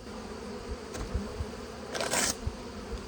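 Honeybee swarm buzzing around a beehive, a continuous near drone of many wings with brief louder passes of individual bees close by, no talking.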